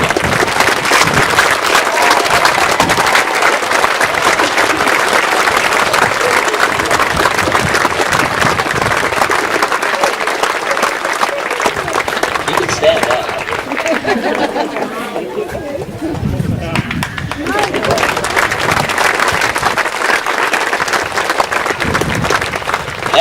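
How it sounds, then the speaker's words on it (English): Crowd applause at the dedication of the Webster Whiffle and T-Ball ballpark field, a long, loud, dense wash of clapping mixed with chatter that dips briefly midway before swelling again. "So if we can get a round of applause."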